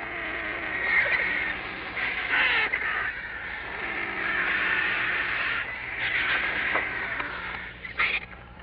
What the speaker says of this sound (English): the squabbling at a carcass appears chaotic